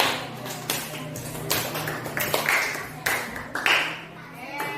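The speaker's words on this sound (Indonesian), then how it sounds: "berikan tepuk tangan Jason" A small group claps for Jason during a school coaching session, giving a few scattered, uneven claps up close with clinks and taps around them.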